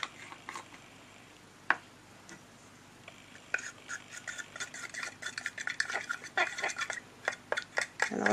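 Autumn-coloured acrylic pouring paint stirred in a cup, soft scraping taps that start sparse and grow into a quick, steady rhythm, close and fairly quiet.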